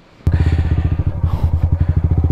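A motorcycle rides along a back road in Tanay, its engine starting abruptly loud and close, then chugging in a steady, pulsing rhythm with rough clattering under it.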